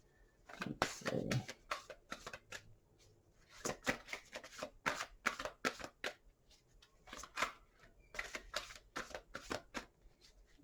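Tarot cards are shuffled by hand in quiet bursts of crisp riffling and flicking, several clusters spread across the stretch with brief pauses between.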